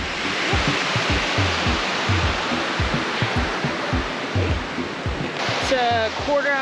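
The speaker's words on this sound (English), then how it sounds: "we just had a break at this waterfall" A waterfall on the Seawall Trail in Cape Breton, Nova Scotia, roars as a loud, steady, close wash of falling water. Low thumps and a voice near the end sit under the noise.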